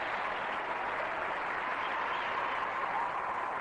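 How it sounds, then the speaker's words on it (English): A large arena crowd applauds figure skaters Leanne Miller and Bill Farber at a 1990-91 Stars On Ice show, a steady dense roar of clapping and cheering that fills the space from start to finish. "listen to the crowd"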